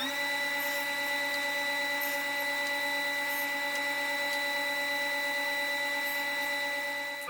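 A table saw with a miter gauge cutting tenon shoulders on wooden table aprons, heard as a steady, unbroken motor whine at moderate level for the whole stretch, with no talking.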